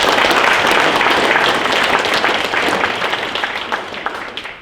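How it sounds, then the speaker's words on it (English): An audience at a political candidate forum applauds steadily, a dense wash of clapping that gradually thins out toward the end. "Give them a nice round of applause."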